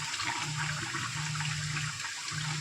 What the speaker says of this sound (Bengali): এবারে এটা ফুটে গেছে, এবারে দিয়ে দেবো মাছগুলো।